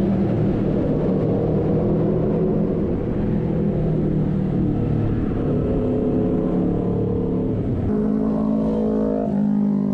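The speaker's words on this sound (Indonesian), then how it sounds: "Suaranya knalpotnya Mas Bro Anggi ganas." A motorcycle exhaust roars steadily inside a tunnel, a loud, continuous, reverberant engine drone on a Sunday ride to Ancol, with the pitch shifting near the end as the rider changes speed.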